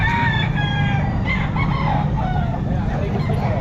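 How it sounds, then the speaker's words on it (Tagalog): Roosters and chickens at a poultry market in Calumpit crow and cluck over a dense, noisy crowd background, several birds calling in overlapping drawn-out cries close by. "Malaking manok."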